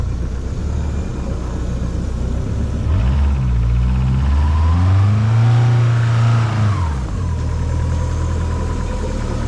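A Subaru fitted with a swapped exhaust reverses with a run-up, its engine rumbling loud and close, rising in a brief rev midway before settling back to a steady throaty idle.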